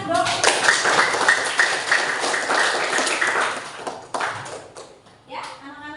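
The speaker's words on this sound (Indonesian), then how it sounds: "beri tepuk tangan dong" Classroom of schoolchildren clapping hands together in a dense, lively burst that fades toward the end, with a teacher's voice briefly audible over it.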